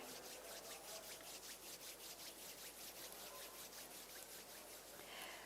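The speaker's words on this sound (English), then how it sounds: "bring your hands together at chest level and rub them gently against each other" Palms of the hands rub gently together in a steady back-and-forth, a soft rhythmic dry swishing heard close and alone, continuing through the whole stretch without pause.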